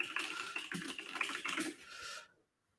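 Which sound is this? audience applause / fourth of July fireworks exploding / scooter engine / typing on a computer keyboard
typing on a computer keyboard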